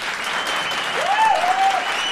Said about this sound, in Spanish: Los que quieran destruir la trompeta,